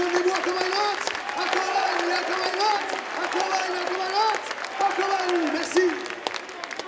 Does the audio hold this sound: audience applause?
yes